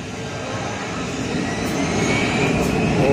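An IndiGo passenger jet takes off close by near Mumbai's airport at Kurla, a steady broadband engine roar that swells louder over a few seconds, with no talking.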